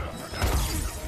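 A quick glassy shatter burst from a special move in the Injustice 2 fighting game rings out during a tournament match, brief and fairly loud with a low thump under the breaking sound.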